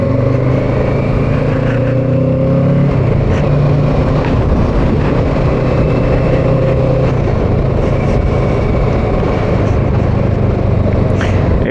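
A motorcycle being ridden home from work on the road, its engine droning steadily and loudly under constant wind rush, with a shift in engine pitch around the third second and no talking.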